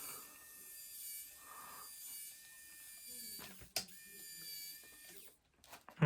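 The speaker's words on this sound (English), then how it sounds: "Now how I do it is I start by lowering the bed." Arktos 6x6 rollback tow truck bed lowering, a faint steady mechanical hum with harmonic whine, followed by a few sharp clunks and rattles near the end.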